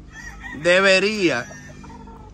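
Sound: young gamecock chick (game fowl) clucking

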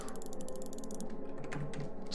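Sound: key pieces rotating, video game Silence of the Sleep

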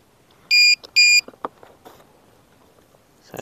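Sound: battery alarm checker beeping when connected to RC plane battery

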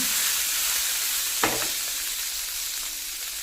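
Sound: green chilli, garlic and ginger frying in a pan

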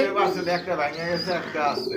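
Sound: pigeons cooing at a pigeon farm

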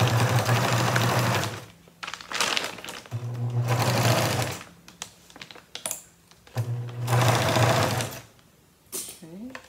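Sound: sewing machine stitching a feed sack shopping bag

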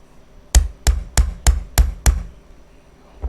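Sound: hammering a hole punch through material

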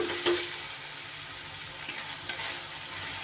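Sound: sautéing onion, tomato and chili powder masala in a pan

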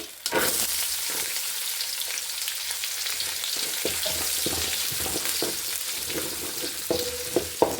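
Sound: frying onion and mustard seeds in a pan

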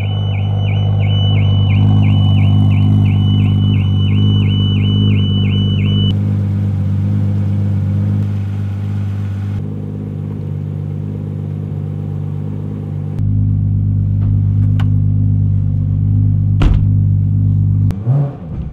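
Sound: Toyota Supra engine idling

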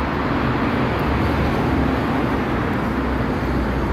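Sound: car passing under a viaduct, traffic noise

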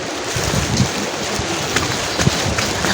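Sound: rain falling on a mountain trail

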